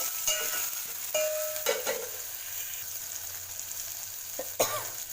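Tomatoes, capsicum and other vegetables for fried rice sizzle in a pan with a steady hiss, broken by a few sharp scraping and stirring clatters.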